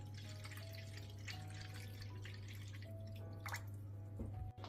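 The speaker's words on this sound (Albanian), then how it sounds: "Tani vazhdojmë që brenda në tepsi të shtojmë ujë" Water is poured into a baking tray, filling it halfway up around glasses of kajmaçina dessert, giving a steady trickle and drip over a constant low kitchen hum, with no talking.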